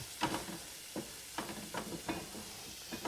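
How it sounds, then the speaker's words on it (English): Onions cooking down in a pan over high heat, a soft steady sizzle broken by a few scraping stirs, quiet and close with no talking. "we'll go ahead and get these onions working and get them cooked down a little bit"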